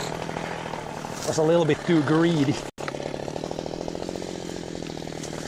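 A chainsaw runs steadily while cutting a tree, its engine droning close and loud under a man's speech, dropping out briefly before resuming its rapid buzz.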